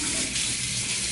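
Tap water running steadily into a sink for washing a wound, a close continuous hiss and splash lasting only a moment.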